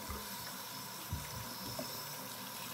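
Water runs steadily from a tap in a continuous broadband hiss, with a few soft low thumps and splashes along the way.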